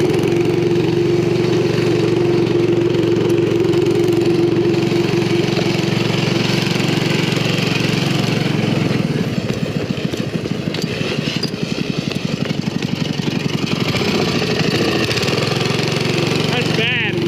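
A rat rod wagon's engine runs loud and rough, a steady drone that turns into a choppy, pulsing rattle midway as it revs and labors, close and continuous.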